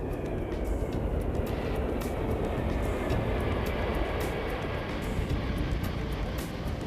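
Russian-built Tupolev Tu-144 supersonic airliner in flight, a steady broad roar of jet engines filling the whole clip at constant loudness, dense and continuous with no pauses.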